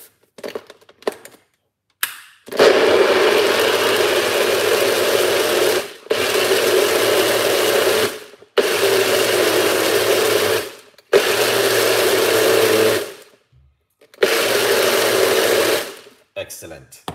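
A kitchen blender whirs loudly while blending pomegranate juice, running in several steady bursts of a few seconds each, separated by short pauses, with a little speech at the start.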